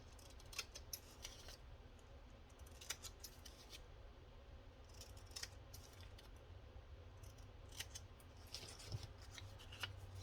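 Scissors snipping through paper craft scraps, a string of quiet crisp cuts in irregular bursts close by, with faint rustling of paper between snips and no talking.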